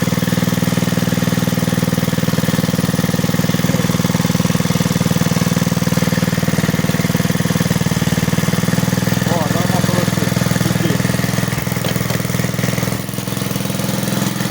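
A Kirsch petrol generator runs with its idle raised, giving a loud, steady, close engine drone that holds evenly throughout, while someone talks over it.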